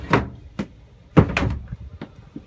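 A large storage drawer beneath the dinette of a 2020 Forest River Cherokee Grey Wolf 27RR travel trailer slides and thumps shut, giving several sharp wooden knocks and bangs in quick succession, close and fairly loud.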